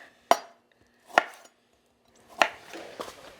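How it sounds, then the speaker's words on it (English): Limes are chopped with a knife for tacos, giving three or four sharp, close knife strikes on a cutting board with quiet gaps between them. "I'll chop up a few more if anybody wants to squeeze a little lime on their taco"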